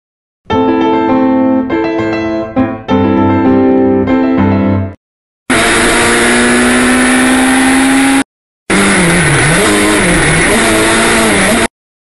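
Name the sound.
Lada race car with roll bars starting and accelerating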